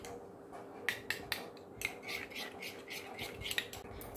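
A spoon stirs an aloe vera gel hair remedy in a small bowl, making a quiet run of rhythmic scraping clicks against the sides, fairly close over a low steady hum.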